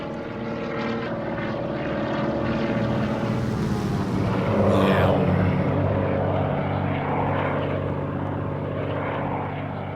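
A Cirrus SR22 propeller plane roars past on a flyby over the Carolina coast, its steady engine drone swelling loud and then sliding down in pitch as it passes.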